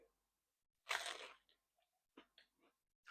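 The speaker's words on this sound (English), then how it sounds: "I'm going to take a bite" One loud, crisp crunch as a bite is taken from a holiday dinner dish, followed by a few soft, faint chewing crackles, close and quiet otherwise.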